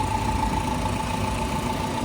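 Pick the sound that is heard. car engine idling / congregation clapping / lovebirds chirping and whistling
car engine idling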